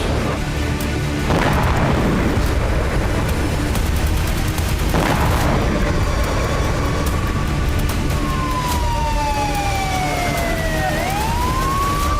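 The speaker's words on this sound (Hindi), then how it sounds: "बस इसी के चलते आईडीएफ ने आसमानी प्रहार किया जो बेहद विनाशक था" An IDF airstrike on Nuseirat camp in Gaza: two heavy booms burst out of a constant rumbling roar, and a wailing siren sweeps up and down near the end.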